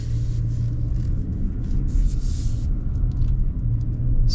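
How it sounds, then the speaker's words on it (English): An SUV engine pulls away from a stop, heard from inside the cabin as a steady, deep road-and-engine rumble with a faint hiss above it. There is no clear rev peak, and no one speaks. "we'll get like a good old acceleration"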